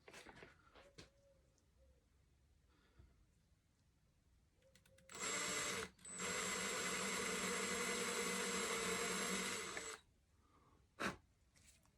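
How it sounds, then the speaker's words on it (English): A power drill bores screw holes during a flow hood build: two bursts of high whirring, one short and one longer lasting about four seconds, with quiet handling noises and clicks around them. "We're just going to drill these holes out."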